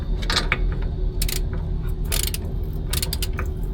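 Ratchet with a 15 mm socket turning a master cylinder bolt during a hydroboost reinstall, giving close clicking ratchet strokes in short back-and-forth bursts over a low steady background hum.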